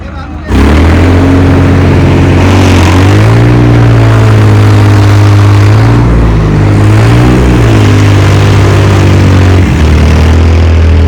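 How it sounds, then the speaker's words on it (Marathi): A tractor engine drones low and steady close by as it hauls a large boat into the sea at Harne harbour, its pitch rising and falling slightly as it labors, with a rough mechanical hum throughout. "ट्रॅक्टरच्या साह्याने मोठी बोट समुद्रात घेऊन चाललेले आहेत"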